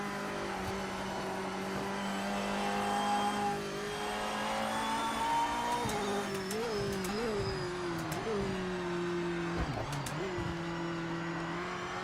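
Race car engine in a 24-hour Nürburgring racing video game lobby, a heavy car on cold tyres, droning steadily then rising and dipping through several quick gear shifts and lifts, fairly quiet and continuous without talk.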